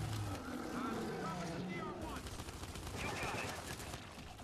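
Rapid gunfire rattles in the Gears 5 video game, dense bursts of shots blending with engine-like rumble, while a person talks over the action.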